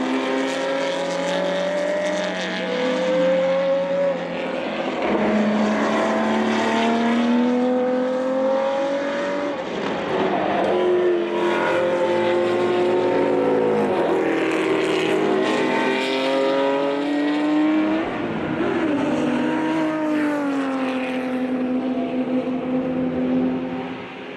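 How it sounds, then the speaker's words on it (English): A 1969 Porsche 917K and other race cars roar past on a track at a racing reunion event, loud engine notes rising and falling with gear changes and pass-bys, continuous and near, no talking. "Here's Jeanette just now coming out of turn 11 up the front straightaway."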